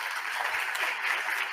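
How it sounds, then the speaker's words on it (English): Steady applause from a crowd, dense even clapping that holds at a moderate level throughout without pauses. "May we have an applause for Mari."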